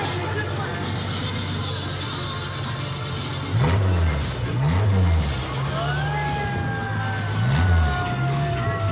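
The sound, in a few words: motorcade of rail buggies driving past in a parade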